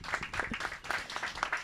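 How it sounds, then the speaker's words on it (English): A small audience claps for author Bo Seo at a book event, sparse, distinct hand claps with an uneven rhythm, fairly close and moderate in volume. "We can give him an applause again."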